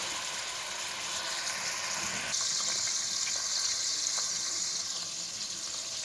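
Meat and potatoes simmer in a covered pan over low heat on the stove, giving a steady soft hiss and gentle bubbling that grows a little louder partway through, with no voices.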